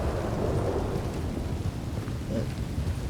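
A thunderstorm in Red Dead Redemption 2 brings steady, dense rain with a low rolling rumble of thunder underneath, continuous and fairly loud with no voices.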